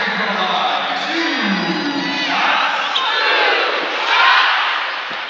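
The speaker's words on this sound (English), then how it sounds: "We have a very interactive crowd here at the house if you're hearing them through the mics" Arena crowd at a WNBA game between the Atlanta Dream and Las Vegas Aces, cheering in a loud, sustained roar that swells and ebbs, with faint voices underneath.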